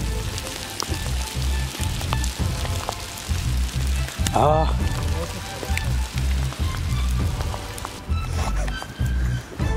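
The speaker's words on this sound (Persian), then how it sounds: "نگاه کنید اونجا همه داره تگرگ میباره" Hail pelts farmland in Iran during a flash flood, a dense, steady rattle and patter close by, broken by low rumbling gusts and handling thumps.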